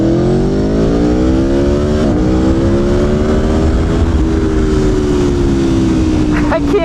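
An Aprilia Tuono V4 1100 Factory motorcycle engine drones at high revs on a race track, its pitch slowly rising and falling as it runs steadily, loud and close, with wind noise throughout.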